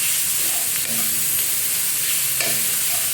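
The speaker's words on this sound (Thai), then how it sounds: "ผัดให้สุกเลยค่ะ" Minced pork with vegetables and glass noodles stir-fries in a hot pan, a loud continuous sizzle broken by scraping strokes of the spatula close by, with no talking.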